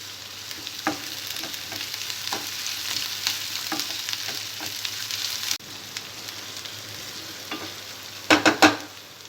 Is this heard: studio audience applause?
no